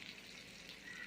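Ladyfish (kilanga fish) frying in a pan over low to medium flame, giving a steady, soft sizzle and crackle throughout with no talking.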